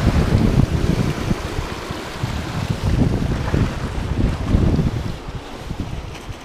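Sea waves wash and break steadily along the shore during bass fishing from the beach, a continuous close roar of surf mixed with wind buffeting the microphone, with no talk.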